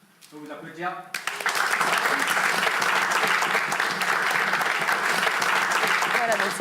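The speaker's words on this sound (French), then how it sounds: "Je vais vous applaudir." After a brief voice at the start, an audience bursts into loud, dense applause that holds steady to the end.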